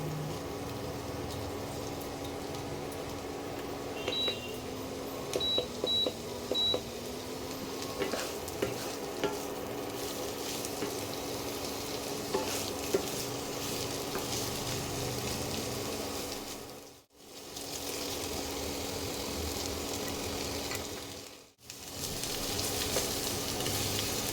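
Onion fries in a pan for a prawn and poppy seed dish, with a steady, close sizzle and frequent stirring scrapes, a low hum underneath and two brief dropouts near the end.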